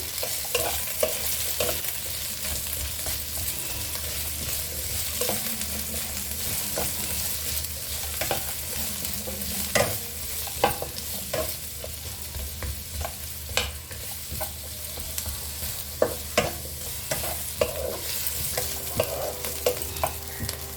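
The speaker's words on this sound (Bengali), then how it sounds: "এটা আমি একটুখানি তেল দিয়ে, হাফ কলার মতো তেল দিয়েছি, দিয়ে ভেজে নিচ্ছি" Onion, garlic and ginger frying in a little oil for mutton masala curry, with a dense continuous sizzle and scattered spatula scrapes and taps throughout.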